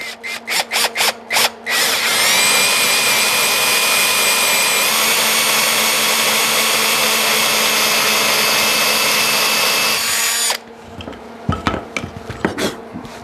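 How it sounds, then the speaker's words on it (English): A power drill whines steadily, drilling holes in wood for a wooden mace, for several seconds, preceded and followed by short bursts and clunks of handling, close and loud. "it's just me drilling holes."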